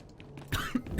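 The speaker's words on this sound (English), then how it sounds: "Oh, I apologize if I start coughing." Coughing from someone with a chest cold, a few rough bursts close to the microphone in the second half after a quieter stretch, with no speech.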